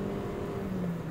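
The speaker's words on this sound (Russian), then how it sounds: "Смотрите, неплохо, да, машина" A Toyota Avensis T270 wagon with a CVT automatic gives a steady, smooth engine drone under acceleration. The sound is heard from inside the cabin, with a faint rising tone and no voices.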